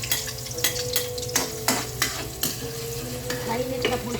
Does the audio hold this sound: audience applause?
no